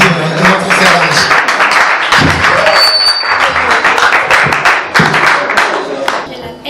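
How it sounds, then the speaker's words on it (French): A small audience at a training session claps in uneven bursts, with sharp, close hand claps and thumps. Voices talk between and over the clapping. "on peut d'abord applaudir notre frère Ange."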